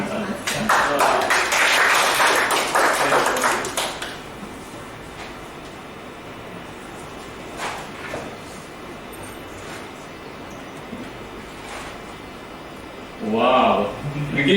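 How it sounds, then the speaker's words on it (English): Audience applause at a Toastmasters meeting, a loud burst of clapping lasting about four seconds, followed by quieter room sound and a brief voice near the end. "We give her another big round of applause."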